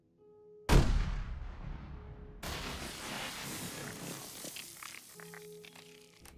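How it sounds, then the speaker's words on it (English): A cannon fires in a video game with a sudden loud boom that rolls off into a long rumbling decay, then a second burst of noise with scattered crackles and clicks. "that cannon shot was definitely Shed Food's alt"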